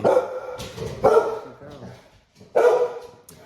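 A dog barks repeatedly nearby in loud, sharp bursts separated by short pauses, with a trailing yip between them.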